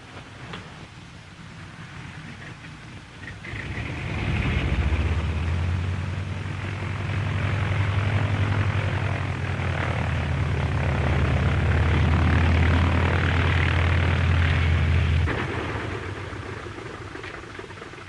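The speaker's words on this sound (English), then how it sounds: "is this Professor Faraday's plane?" A propeller airplane engine starts up and settles into a loud, steady drone with a low throbbing hum, running continuously before cutting back near the end.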